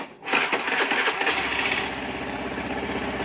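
An automatic scooter engine with a weak or leaking fuel pump cranks with a sharp burst and catches, then settles into a steady, close idle putter with no talking.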